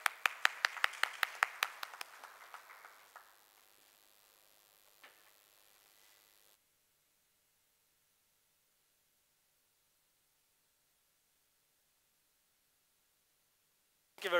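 Brief applause at a conference opens the clip with distinct close claps that quickly thin and die out, leaving near silence.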